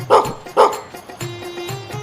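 A dog barks twice in quick succession, loud and close, followed by softer whimpering yips and whining, with no speech.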